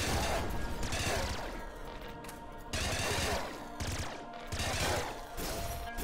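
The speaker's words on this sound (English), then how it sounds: "I feel like the laser minigun's actually going to be fine." A laser minigun in the top-down shooter Nuclear Throne, firing rapid buzzing bursts in three long surges with brief gaps, loud and continuous, no voices.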